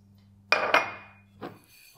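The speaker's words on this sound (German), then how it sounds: "Die Gewürze, die gebe ich jetzt erstmal in eine Pfanne und röste sie an" A pan clanks as whole spices are dry-roasted in it without fat: two quick metallic knocks close together, a short ringing tail, then a softer knock a moment later.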